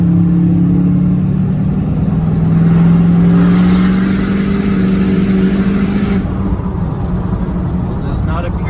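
A low-mileage Duramax LBZ diesel truck engine revving, a loud, close, droning rumble that rises around the middle and then settles back toward idle.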